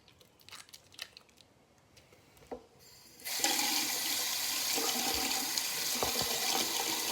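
Tap water runs steadily into a sink while a smelly squishy toy is rinsed, starting after a few seconds of quiet handling and small clicks, then a loud, continuous close-up gush with occasional knocks.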